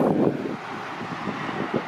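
Gusty, cold wind buffets the microphone on a road during a bicycle trip, with a low rumbling roar that swells and eases over a couple of seconds, with no voices.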